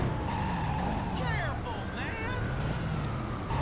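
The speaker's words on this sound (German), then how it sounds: "Extrem viel Verkehr hier gerade" Dense road traffic in the driving game Driver: Parallel Lines, with a steady engine and tire roar from passing cars, brief screeching tones and honks, and a voice talking over it.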